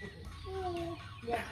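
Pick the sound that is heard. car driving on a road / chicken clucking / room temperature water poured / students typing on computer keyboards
chicken clucking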